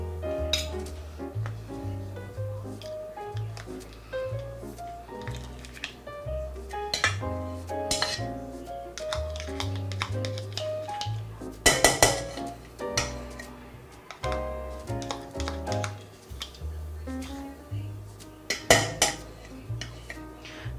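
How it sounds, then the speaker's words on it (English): Batter for Asian cheese macaroons being mixed in a bowl with butter, cinnamon and vanilla, a steady rhythmic clinking and scraping of a utensil against the bowl, close and repetitive, with music playing along throughout. "So I'm going to start my mixture right now."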